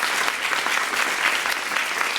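Audience applause at a World Refugee Day gathering, steady and dense throughout, with many hands clapping at close range.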